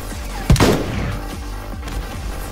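In the video game Final Fantasy XV, a single sharp, loud gunshot rings out, followed by a rumbling decay, with distant shots trailing faintly after it.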